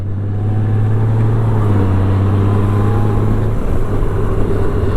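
A Honda GL1800 Goldwing's flat horizontally opposed boxer engine runs steadily while riding, a loud continuous low droning hum with a slight shift in pitch partway through and no talk over it.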